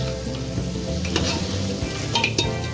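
Spices and cumin being stirred in a hot frying pan for a Punjabi-style pea curry, a steady sizzle with scraping strokes of the spoon throughout, close and without voices.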